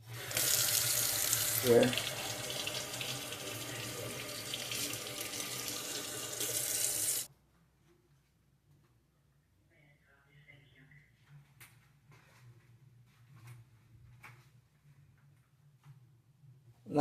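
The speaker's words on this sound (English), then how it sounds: "Let me rinse this off here." A kitchen tap runs into a sink while something is rinsed off during cappuccino-making, a steady loud rush of water lasting about seven seconds before it cuts off to near quiet, with a single short spoken word.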